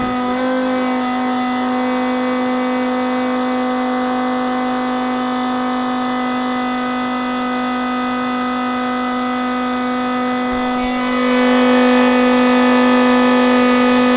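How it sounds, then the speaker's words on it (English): A diesel fuel transfer pump hums with a steady, loud, close motor tone while fuel is pumped into a Vevor tank, and the sound rises and thickens slightly near the end. "Let's turn the pump on, see what happens."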